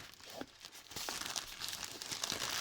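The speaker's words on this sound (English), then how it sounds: "and gently but firmly cut the packaging." Cardboard packaging around a Xiaomi Redmi 9C/9A screen assembly is cut and handled up close, with quiet crinkling, scraping and tearing sounds in irregular bursts.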